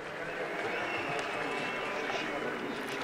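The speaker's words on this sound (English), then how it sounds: "Listen to that crowd." A crowd cheers at a Monza endurance race, a dense, loud roar of voices and clapping that fills the short stretch evenly.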